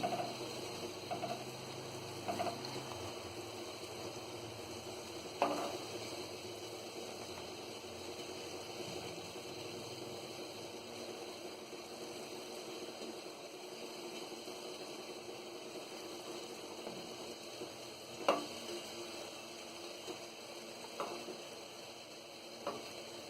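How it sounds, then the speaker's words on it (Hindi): Semolina gulab jamun frying in oil over a medium gas flame, a steady soft sizzle running throughout with a faint hum beneath and a few brief clinks. "और इसे हम मध्य गैस पे ही तलेंगे।"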